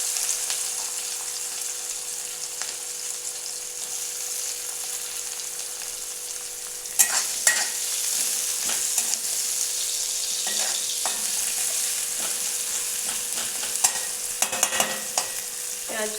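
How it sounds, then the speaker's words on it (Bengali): Onions sizzle in hot oil with a green chili for egg curry, a steady bright frying hiss with occasional scraping stirs of a spatula, close and alone with no talk. "পেঁয়াজটা একটু ভাজা হলে রসুনটা দেব"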